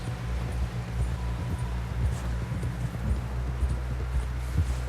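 Hooves clip-clop steadily as a horse walks along in Red Dead Redemption 2, an even rhythmic beat of soft thuds that continues for about five seconds under low background ambience.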